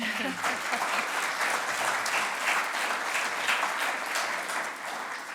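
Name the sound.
audience applause at a launch event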